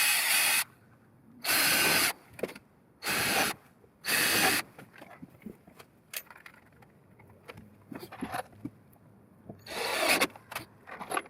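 A power drill driving screws through wood into 2x4s whirs in four short bursts, then a quieter pause with faint clicks and handling noise before a final drill burst near the end.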